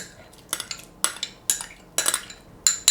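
A spoon stirs strawberries into custard in a bowl, making a steady series of close, bright metallic clinks and scrapes roughly every half second.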